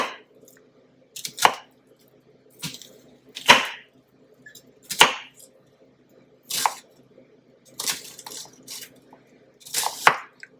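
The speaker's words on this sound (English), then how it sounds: "Just give them a rough chop." Onions roughly chopped with a knife on a cutting board for a crockpot beef stew, about eight distinct, separated chops spaced irregularly at close range with quiet gaps between them.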